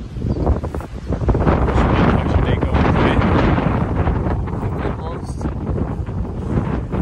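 Strong wind buffets the microphone in loud, continuous gusts, roaring and rustling throughout without letting up.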